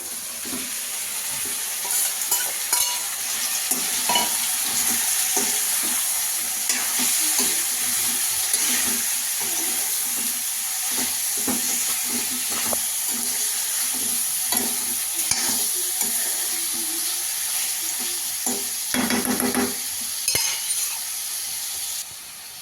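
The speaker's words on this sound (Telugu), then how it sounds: "నెక్స్ట్ చికెన్ వేసుకుందాం" Chicken pieces frying in a pan with ginger-garlic paste for a fry-piece chicken biryani, giving a loud, steady sizzle with occasional stirring clinks throughout and no voices.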